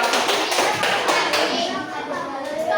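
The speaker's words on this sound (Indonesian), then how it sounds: "tepuk tangan untuk kelompok 5" Children in a primary classroom clap for a group of classmates, a dense, steady patter of many small hands close by, mixed with a few louder taps and thuds and faint kids' voices underneath.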